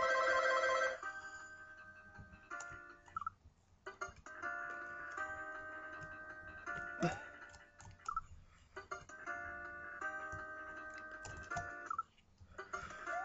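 A telephone rings in repeated bursts behind Super Weegee World 2 ice-level game music, fairly faint and mixed with tinkling melodic tones.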